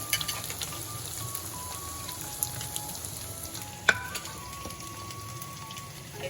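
Chicken pieces frying in hot oil give a continuous, moderately loud crackling sizzle, with a sharp clink partway through and faint tonal hums in the background.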